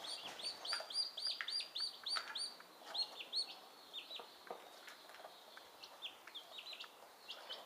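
Turkeys call in a barnyard setting with guinea fowl keets nearby, a run of repeated high chirping calls in quick bursts, moderately close, fading to scattered calls later, no talk.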